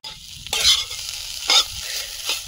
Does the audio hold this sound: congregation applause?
no